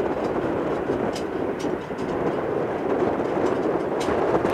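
A steady, loud roar of an airliner engine at Tampa International Airport fills the whole stretch, broadband and continuous without pause, with faint clatter on top.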